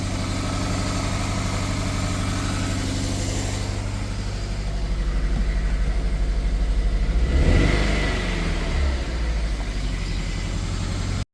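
A Toyota MR2 engine runs steadily at idle after being brought back to life, a low continuous rumble that swells in one brief rev partway through before settling again.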